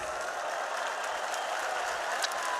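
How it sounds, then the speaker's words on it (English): Esports tournament crowd applauding at a Counter-Strike major in Kraków, a dense, steady wash of clapping from a large arena audience, sustained throughout. "a nice warm round of applause"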